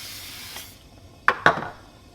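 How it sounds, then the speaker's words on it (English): A brief soft hiss of non-stick cooking spray, then two sharp metallic clinks against a frying pan in a quiet kitchen. "I might spray some non-stick stuff in there."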